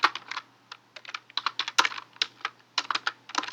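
Rapid bursts of computer keyboard typing, close and crisp, with uneven clusters of keystrokes and short pauses between them, while text is entered into a design program.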